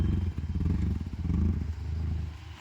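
A manual car's engine idles low and steady, rising slightly into a soft clattering rumble as the clutch is eased out slowly during a driving lesson, close and continuous with no talk.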